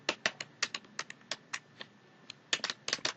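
Irregular keystrokes on a computer keyboard as Lao text is entered in Microsoft Excel, close and fairly quiet, in uneven bursts with short pauses and a quick flurry near the end.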